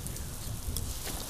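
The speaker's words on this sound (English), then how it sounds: "Wow, it's starting to rain." Rain beginning to fall in a make-believe children's television scene, a soft, steady hiss of light rainfall pattering close by with no voices over it.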